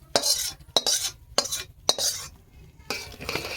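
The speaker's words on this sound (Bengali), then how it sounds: "ভাতটা ভালো করে এইভাবে মাখিয়ে নেব" Butter rice being mixed by hand or spoon with fried cashews, raisins and garam masala: a series of sharp scraping strokes against a metal vessel in uneven bursts, close and clear with quiet gaps between.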